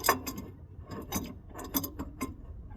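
Ratchet wrench clicking on the outer tie rods during a steering rack replacement on a 2004 Ford F-150, several quick bursts of close, fairly quiet ratcheting with short pauses between them.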